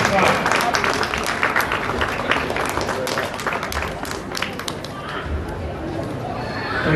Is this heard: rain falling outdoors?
no